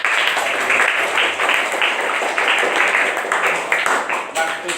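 Classroom applause for a student, a dense wash of clapping from a group of pupils that holds steady for several seconds, with children's voices mixed in underneath.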